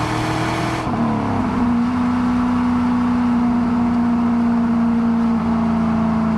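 A 2002 Pontiac Trans Am WS6 with an LS1 V8 and six-speed manual accelerates under load, engine drone rising in a steady whining pitch after a brief shift, heard from inside the cabin.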